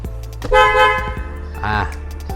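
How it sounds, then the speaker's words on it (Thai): A frame-mounted car horn sounds in two bursts, a longer steady tone followed by a shorter one, with someone speaking between and around them. "อันนี้คือแตรเฟรมนะครับที่เราจำหน่ายอยู่"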